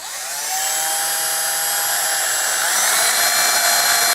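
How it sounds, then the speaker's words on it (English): A carbide burr on a rotary tool grinding and smoothing a silver coin ring, a continuous high-pitched whine held close and steady for a few seconds before stopping. "Now we got our carbide burr on here again."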